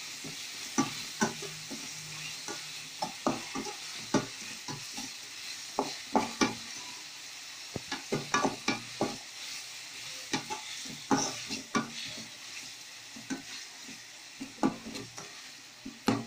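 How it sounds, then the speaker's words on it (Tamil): Onions and tomatoes sauté in a pan for a Tamil lentil-ball curry, with a soft sizzle under frequent scraping, tapping stirs from a spoon, uneven and close throughout. "இப்போ வெங்காயம் தக்காளி எல்லாம் நல்லா வதங்கிச்சு"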